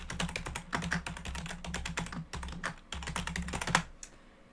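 Fingers tap a password on a computer keyboard in quick bursts of close, crisp key clicks with short pauses between runs, quiet and alone.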